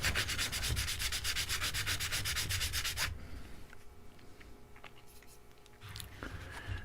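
Rapid, steady back-and-forth rasp of 150-grit sandpaper held flat on a table, loud for about three seconds, then quieter handling noises and light scraping.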